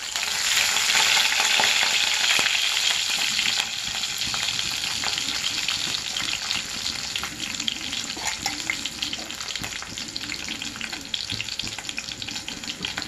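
Spices and ingredients for a homemade pulao with bay leaf, cardamom and cinnamon sizzle steadily in a hot pan, a dense continuous frying hiss with occasional stirring clatter, close and loud throughout with no talk.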